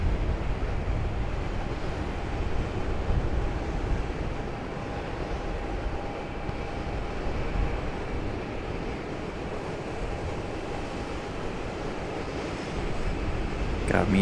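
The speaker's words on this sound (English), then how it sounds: "Got me in the wind, freezing." Outdoor wind buffeting the microphone at an airport plane-spotting spot, a steady low roaring rumble that swells and eases, with a faint voice now and then beneath it.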